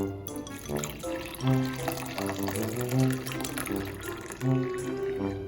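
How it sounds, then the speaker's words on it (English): Hot milk steeped with a cinnamon stick poured into a cup, a soft, continuous liquid trickle and splash running under background music. "Once you hit your 4 minutes, pour it into your cup."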